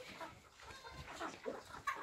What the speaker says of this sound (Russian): Куры бедные все еще тут.